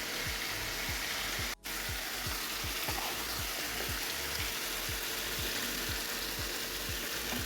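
Tilapia fish frying in hot oil, a steady close sizzle with crackling spatter and periodic stirring scrapes, continuous and alone without talk.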